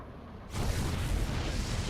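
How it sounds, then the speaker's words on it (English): A nuke detonates over cannons in a StarCraft II match, a sudden deep booming roar that swells and holds as a broad rumbling blast, loud and sustained over a quieter game background. "Nuke gonna be shutting down some of these cannons."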